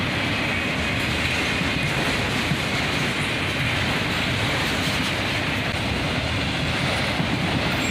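Autorack cars on a CSX freight train keep streaming past close by in a continuous loud roar, with faint clickety-clack from the wheels on the rail joints under the steady rumble.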